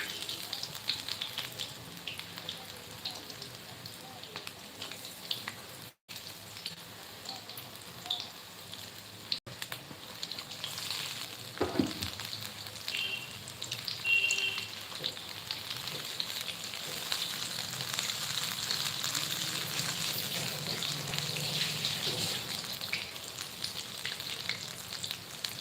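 Cauliflower bajji frying in hot oil at an outdoor village cooking setting: a steady crackling sizzle throughout, with a brief stirring or scraping clatter midway, close and alone without talk.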